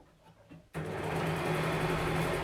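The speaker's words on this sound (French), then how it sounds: "Donc moi je le fais à la machine, la surjeteuse pardon." An overlocker (serger) starts up and runs at a steady, loud, continuous hum while finishing the sleeve edges of a dress, after a brief quieter moment.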